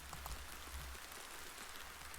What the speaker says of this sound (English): Soon a torrent of rain was assaulting them, and Nelli drew her hood over her head